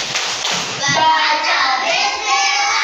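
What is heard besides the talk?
children's rhythmic clapping chant for ablution (tepuk wudhu)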